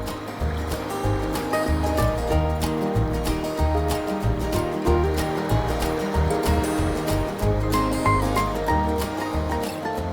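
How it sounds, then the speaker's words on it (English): Flowing water rushes steadily and loudly nearby, a constant churning wash with no voices over it. "Look at the river flowing."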